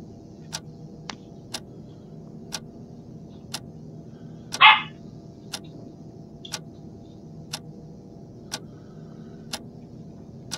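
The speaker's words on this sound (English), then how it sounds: "Oh, it's my little dog here, guys." A small dog gives a single short, sharp bark partway through, heard over a steady, evenly spaced clock-like ticking in an otherwise quiet room.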